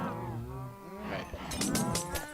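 Cows in a farming video game moo in long, low drawn-out calls, one after another, followed by sharp clicking and thumping game effects.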